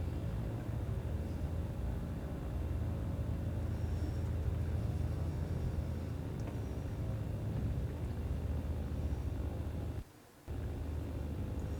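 Steady low engine rumble of an aircraft taxiing out for a northerly departure in South Africa in Microsoft Flight Simulator 2024, continuous and even throughout, with a brief dropout near the end and no voices.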